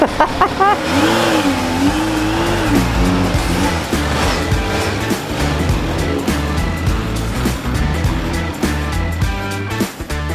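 A motorcycle engine runs loudly and steadily just after starting, with continuous revving rising and falling for about ten seconds and no talk over it.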